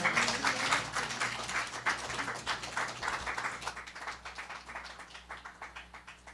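Audience applause at a remembrance service, a broad steady wash of many hands clapping that thins and fades gradually over several seconds.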